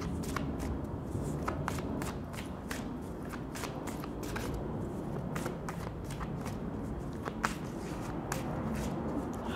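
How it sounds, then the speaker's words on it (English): Tarot advice and guidance cards are shuffled continuously and handled close up, producing a dense riffling rustle with frequent sharp snapping flicks in an uneven rhythm, with no voice over it. "I'm going to pull high-level advice and guidance cards for you"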